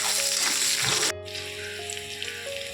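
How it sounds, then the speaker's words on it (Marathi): Green chillies sautéing with mustard seeds and cumin in a pan, a loud crackling sizzle that drops abruptly to a quieter steady frying hiss partway through. "राई चांगली फुलली की टाकायचं जिरं कट केलेली हिरवी मिरची आणि एक मिनिटासाठी चांगली परतून घ्यायची"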